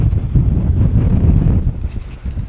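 Gusting wind in the Mauritanian desert buffets the microphone with a loud, low, continuous roar that swells and eases slightly.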